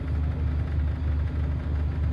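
A bus engine hums steadily from inside the cabin, a low continuous drone with a slight pulsing vibration and no voices.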